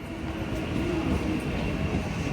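Train noise at Dombivli railway station near Mumbai: a steady, loud rumble of rolling rail cars with a constant broadband roar and no talk.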